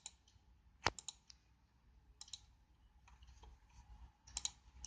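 Sharp mouse clicks on the buttons of a recycling machine interface running on a networked PC, several isolated clicks spread out with quiet gaps between them, close and crisp.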